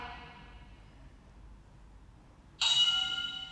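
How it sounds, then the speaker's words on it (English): A workout interval timer bell strikes once, bright and ringing, then hangs with a sustained decay over a quiet, low room hum. "Stay with it all the way to that bell."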